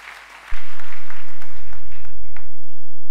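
Church congregation applauding loudly during a sermon, a heavy, continuous roar of clapping that kicks in abruptly after a brief quieter moment and stays strong, with a low rumble underneath.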